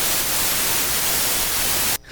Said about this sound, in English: Same random noise.